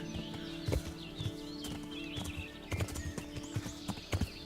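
Hooves clip-clop at a steady walking rhythm in the game Kingdom Come: Deliverance over a looping soundtrack, with a soft whinny and ambient chirps in the background.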